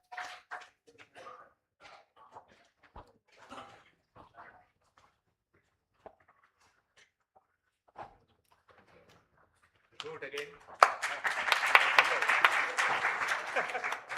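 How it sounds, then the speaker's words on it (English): An audience at a hypertension day conference applauds session moderators, a burst of dense clapping starting abruptly after several seconds of sparse quiet talk and small noises, filling the room to the end. "A big round of applause to the moderators of this wonderful session today."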